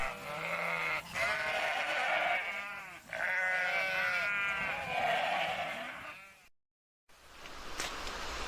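Sheep and goats raised at a livestock farm in Rason bleat repeatedly, several animals calling over one another in long wavering cries, loud and close, with a brief silent gap near the end.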